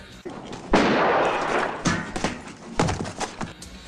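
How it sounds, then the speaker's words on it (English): Shotgun blasts from an action movie scene, a loud sharp report followed by two more booming shots with echoing tails, close and forceful, with no talk over them. "he shoots someone with a shotgun"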